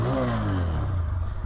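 A TVS Apache RTR 160 2V BS6 motorcycle, still cold near 1000 RPM idle, revs up with a rising engine drone that then settles back, loud and close, with no talk over it.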